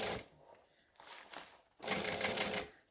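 A sewing machine runs slowly through tight quilted binding on a bag, in start-stop bursts with short pauses between runs of stitching, close and fairly loud.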